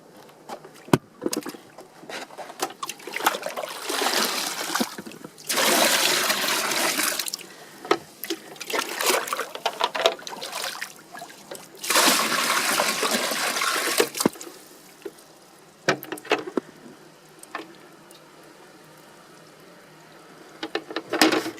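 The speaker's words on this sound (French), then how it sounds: "On prend de l'eau de l'étang." Pond water poured from a container into a fish holding tub, splashing and gurgling in several bursts of a few seconds each, close by, with quieter drips and handling noises between pours and no talking.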